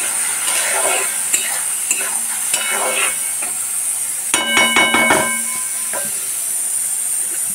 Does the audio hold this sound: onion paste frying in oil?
yes